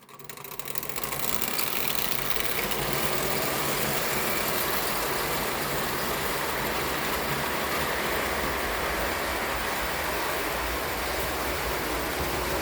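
An old Ives toy electric train runs continuously with a steady, dense whirring rumble and hiss, close and constant throughout with no voices.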